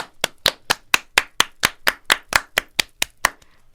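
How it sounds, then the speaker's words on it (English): Hand clapping on a podcast, a steady run of about fifteen crisp, evenly spaced claps close up, a few doubled, stopping abruptly with no talk. "Clap with me."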